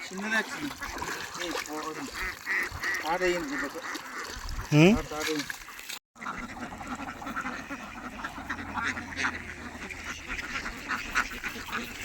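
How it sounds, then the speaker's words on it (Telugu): Ducks quack repeatedly near water, several nasal calls rising over a busy outdoor background with trickling water, while people talk nearby; the scene cuts partway through to a steadier watery ambience. "బాతుల లైన్ చూడు బాతులే బాతులు"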